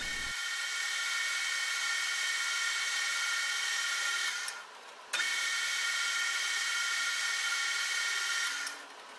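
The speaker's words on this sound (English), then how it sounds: "Here we're taking the bore out to suit the bearing" A lathe bores out a part of blue acetal plastic to fit a bearing, giving a steady high-pitched cutting whine that runs continuously, dips briefly midway, resumes, then fades near the end with no talking.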